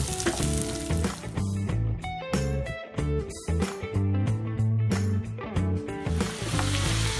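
Pork sautéing in a pan for Filipino pork humba, a steady frying sizzle with occasional stirring, partly buried under loud, continuous tonal music.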